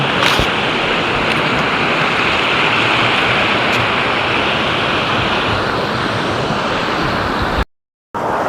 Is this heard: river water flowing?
yes